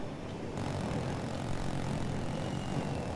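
Airplane from the shooter game Battlefield 2042 flying past, a steady broad engine roar holding at even loudness throughout, with no talk over it.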